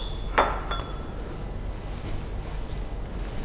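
A glass rod being washed with a wash bottle in a chemistry lab, giving one bright clink of glass early on and a fainter second ring, followed by a quiet hiss of background noise.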